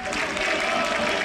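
A football crowd applauds at a 2007 UEFA Cup match between FK Mladá Boleslav and AEK Athens, a steady wash of distant clapping from the stands with no breaks.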